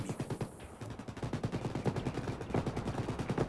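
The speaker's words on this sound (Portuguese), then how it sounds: "Estão atirando em mim!" Rapid bursts of automatic gunfire in the video game Ghost Recon Wildlands, sustained and dense throughout, with overlapping shots at close range.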